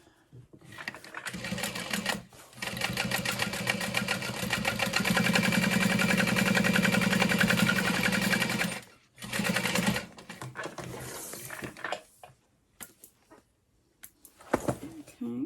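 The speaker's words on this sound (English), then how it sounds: "we're top stitching on the exterior fabric" A sewing machine top-stitches the exterior fabric of a bag in one long steady run, close and fairly loud, followed by shorter bursts as the work is adjusted.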